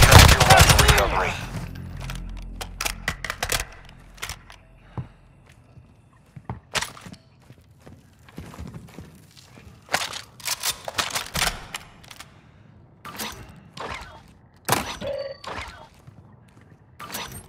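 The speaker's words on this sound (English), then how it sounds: "I hear shooting." Call of Duty gunfire: bursts of automatic shots and single cracks ring out in scattered volleys, loud at first and then sporadic and more distant, with a voice speaking briefly in between.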